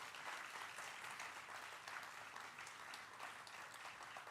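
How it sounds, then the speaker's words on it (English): Audience applause for the finalists at a college inaugural ceremony, a continuous wash of clapping from many hands, steady and moderately distant, with no voices on top. "Can we get a round of applause for our finalists?"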